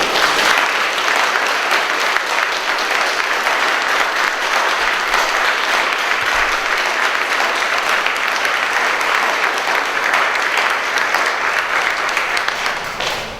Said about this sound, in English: I think a round of applause might be due for Ronnie Uccellini.